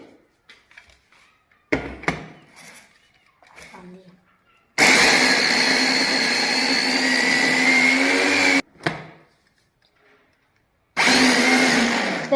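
A kitchen mixer grinder whirs loudly while blending radish chutney with coriander, green chilli and cumin, running in two steady bursts of several seconds each, with brief handling knocks and faint talk in the pauses between.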